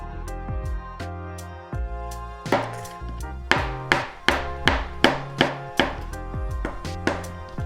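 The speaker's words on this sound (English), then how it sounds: "Chop your mushrooms up." Mushrooms chopped with a knife on a cutting board for a meat lasagna sauce, a close series of sharp wooden knocks, sparse at first, then a quicker steady run of crisp thuds, with no talking.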